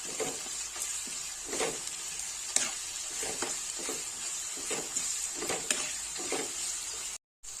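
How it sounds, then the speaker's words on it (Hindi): Ginger garlic paste frying in a pan over browned onions for a chicken gravy, a soft continuous sizzle broken by repeated spoon scrapes and stirring strokes, fairly quiet and close. "जिंजर गार्लिक पेस्ट अच्छे से भुन गया है।"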